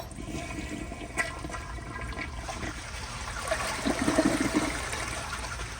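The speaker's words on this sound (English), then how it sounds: "But here is another flush." A 2002 Kohler Santa Rosa Ingenium toilet with a fast-filling fill valve flushes nearby, a steady rush of water swelling toward the end with gurgling, no talking.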